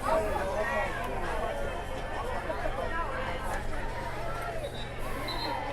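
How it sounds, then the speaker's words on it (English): A full crowd fills the home and away stands at a night high school football game between Marshall County and Creekwood, giving a steady, dense murmur of chatter and hubbub that stays even and close throughout. "So we've got a great crowd here tonight."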